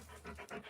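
A puppy pants softly and quickly, several short breathy huffs close by in a quiet indoor space during a rainstorm flood.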